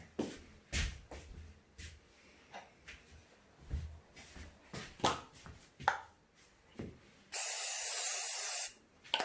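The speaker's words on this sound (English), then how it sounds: "Spray it again." A spray can or bottle gives one sustained hiss lasting about two seconds near the end, preceded by a series of short knocks, taps and handling clatter.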